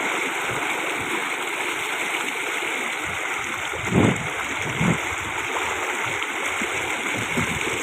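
Sea water rushing steadily from an outlet at a shoreline, a broad continuous gushing stream with a couple of brief louder splashes, close and fairly loud with no talk.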